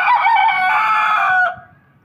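A white rooster crows loudly and close by, a long strained call of about one and a half seconds that cuts off abruptly, with hens clucking faintly around it on a farm.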